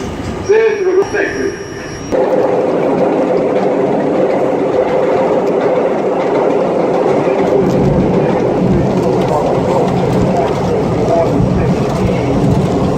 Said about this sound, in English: As we pull into 145th, I'm on the local, which is a R-32.